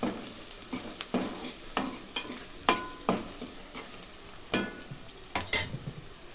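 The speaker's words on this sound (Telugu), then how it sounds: "పసుపు వేస్తున్నా. ఒకసారి కలుపుకుందాం." Turmeric is stirred into onions frying in a pan, with a spoon scraping and knocking in irregular strokes over a soft background sizzle, close and fairly quiet.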